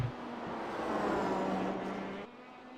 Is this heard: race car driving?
yes